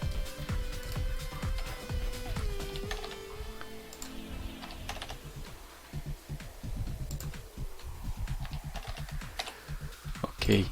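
Keys clatter in quick irregular bursts on a computer keyboard while values are entered for a Construct 2 platformer game, with steady close clicking throughout and faint background sound.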